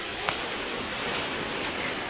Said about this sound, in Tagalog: Ang ganda ng ilog. Baha po ngayon.